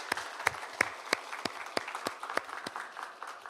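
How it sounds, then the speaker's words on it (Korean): Church congregation applauding to welcome a new member during a Sunday service, a sparse scattering of individual claps in an uneven rhythm, moderately faint in a reverberant hall. "우리 박수로 환영하겠습니다"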